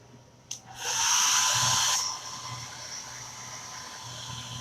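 A hair dryer blows a hiss across freshly applied chalk paint in parakeet green, switched on briefly for about a second and a half at close range before it cuts off, with faint room tone afterward.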